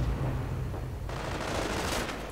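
Gunfire rakes an anti-tank gun in a World War II real-time strategy game battle against a German Panzer division assault, a dense sustained burst of shots and impacts with a sharp brighter crackle joining halfway through, loud and close.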